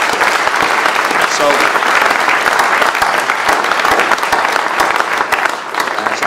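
Sustained applause from an audience at a British Columbia music sector event, a dense wash of many hands clapping throughout, with a voice briefly speaking near the start.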